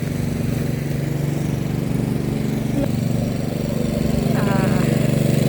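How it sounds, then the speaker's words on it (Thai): A lawn mower cuts grass in an apple orchard, its engine droning steadily and fairly loud throughout with a constant mid-pitched hum, a brief clink partway through. "พ่อปู่ตัดหญ้านะ"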